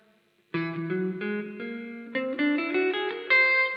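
A melodic instrument plays a rising whole-tone scale of single notes in even steps, clear and close, after a brief silence, with no talking.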